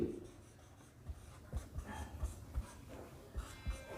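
A pen scratches out an essay topic on exam paper, a faint, close rubbing with short irregular strokes and small taps, soft and steady with no voices.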